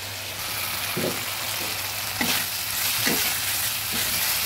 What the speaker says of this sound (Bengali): মশলাগুলো প্রায় ভাজা হয়ে এসেছে